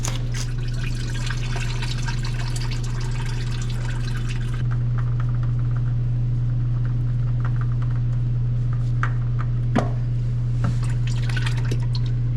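Engine oil streams steadily from the drain on a Cadillac Escalade with the 6.2L engine, a continuous close liquid rush over a low hum, with occasional drips and small clicks.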